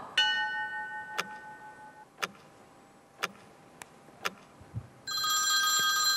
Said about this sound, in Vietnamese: Tiếng chuông vang lên từ Văn Đức.